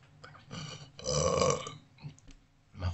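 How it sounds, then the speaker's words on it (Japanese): A single drawn-out burp from a person sitting close to the microphone, moderately loud and gurgling, with faint mouth noises before and after. "ちょっとね、ゲップが出るわ。"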